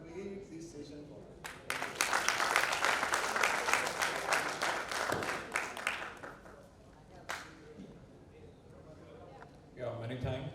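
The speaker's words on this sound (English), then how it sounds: "With a huge round of applause" Audience applause fills the hall at a literature festival session on cricket, rising after a spoken introduction, sustained and dense for several seconds, then thinning into scattered claps as a voice resumes.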